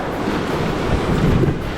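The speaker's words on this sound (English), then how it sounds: "That's another rapid. I just love rapids." A canoe runs river rapids on the New River, with a loud, churning rush of water and heavy wind buffeting close to the microphone, no talking.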